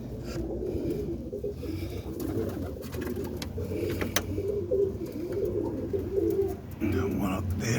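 Boston ripping roller pigeons coo softly and repeatedly inside a loft on a Saturday morning, low throaty calls layered over a busy background with a voice speaking at times.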